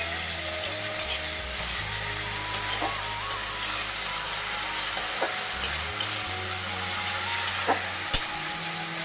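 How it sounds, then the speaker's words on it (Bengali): Garlic and ginger paste fries in a pan with a constant bright sizzle, broken by a few stirring clicks and a sharp knock near the end, while a low hum drones underneath. "এক চামচ রসুন বাটা দিয়ে দিচ্ছি এক চামচ আদা বাটা দিয়ে দিলাম এখন ভালো করে কষিয়ে নেবো"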